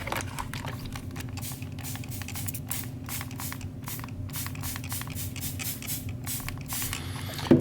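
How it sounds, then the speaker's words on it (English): Hand spray bottle misting water onto a leather piece being shaped into a vase or bowl, a rapid run of short, close hissing squirts in a steady rhythm over a low background hum. "I'll give that a decent spray"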